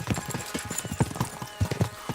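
Hooves clip-clop in a quick, even rhythm from horses being spurred on in the video game Kingdom Come: Deliverance II, close and fairly loud with no talk over them.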